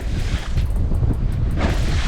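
Steady wind roars and buffets the microphone on an open lake during offshore bass fishing, a continuous loud rush with low rumble and no talk.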